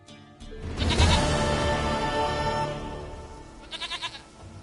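Goat bleating in the video game Witcher 3: a long, wavering bleat swells loud and close over a low rumble, fading away before a short, pulsing cry near the end.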